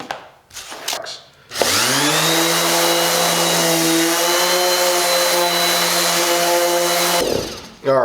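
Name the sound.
5-inch random orbital sander running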